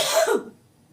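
A single harsh cough bursts out close by, followed by a quieter throaty tail and faint background hum.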